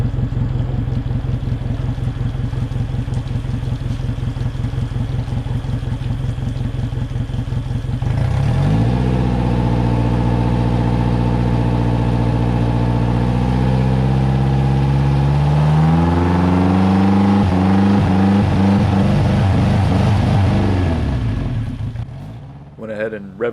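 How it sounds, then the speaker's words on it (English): A hurricane-salvaged, rebuilt outboard boat motor runs at a steady rough idle, then revs up and holds high with rising and falling pitch before cutting off near the end. "Went ahead and revved the motor up a couple times"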